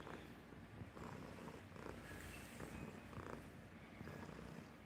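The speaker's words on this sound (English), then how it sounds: "You are giving me big purrs." A cat purrs steadily in soft, rhythmic rumbling pulses, very close and quiet, with no voices over it.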